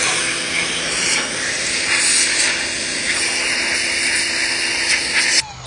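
A pressure washer sprays steadily at close range, blasting paint off a surface with a continuous loud hiss that stops abruptly near the end, with no voices.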